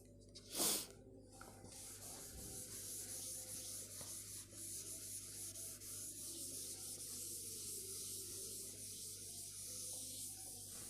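Writing being rubbed off a classroom board makes a steady, faint, continuous scrubbing sound for several seconds after a single sharp knock near the start.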